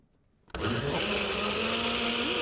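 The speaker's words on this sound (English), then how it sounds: "Okay, I'm going to make a big noise again. Oh, the blender." A kitchen blender abruptly switches on after a quiet moment and runs at a loud, steady whirring roar, close and continuous.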